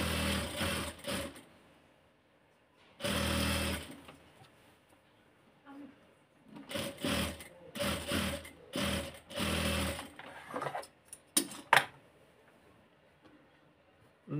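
A sewing machine stitches the shoulder seams of a georgette kameez in several loud bursts of rapid mechanical whirring, separated by short quiet pauses, with a few sharp clicks near the end.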